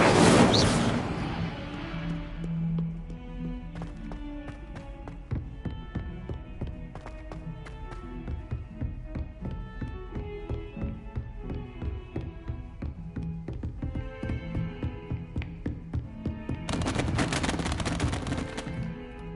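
A fire spell cast in Hogwarts Legacy flares with a bright burst at the start, then dies into a run of sharp game effects and music, with a second broad flare-up near the end.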